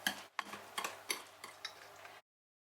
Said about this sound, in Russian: И все хорошо просто перемешиваю венчиком